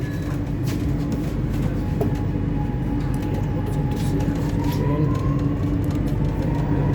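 Inside a Chennai metro rail train heading toward the airport, a steady low rumble and hum of the moving carriage runs throughout, with faint higher whines and tones drifting in, and no one talking.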